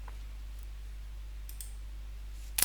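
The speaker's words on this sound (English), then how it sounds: "I'll go ahead and click on connect" A mouse clicks a connect button, giving a few faint, isolated clicks over a steady low hum and ending with a sharper, closer double click.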